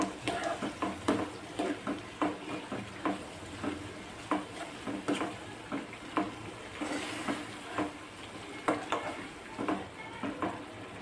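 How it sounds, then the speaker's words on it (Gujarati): A spoon stirs bottle gourd bharta with salt and chili powder in a hot pan, giving a steady run of scraping, clacking strokes over a soft sizzle, close and alone. "મીઠું, લાલ મરચું પાવડર સારી રીતે મિક્સ કરી લઈશું."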